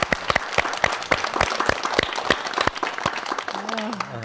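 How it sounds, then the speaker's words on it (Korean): Church audience applauding a guest pastor on a Korean Christian talk program, dense sustained clapping at close range with sharp individual claps throughout, a voice briefly heard near the end. "박수로."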